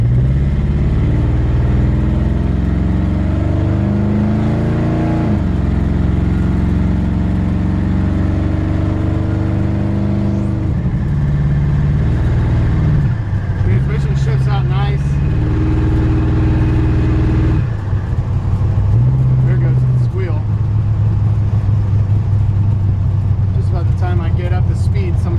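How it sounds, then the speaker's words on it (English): A 1953 Chevy 5-Window pickup truck engine runs close by, a steady throaty drone whose pitch rises and falls as it revs, with a faint belt squeal whining above it. "I was hoping that the truck would warm up and that squeal would go away."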